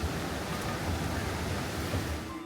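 Rain falls steadily beside a stream running full and fast near a temple in the monsoon, a dense continuous rushing wash that fills the scene at moderate volume with no voices.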